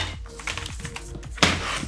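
Keys clacking on a MonsterX Abaddon full-size keyboard, a quick irregular run of close, crisp taps with one sharper burst near the end.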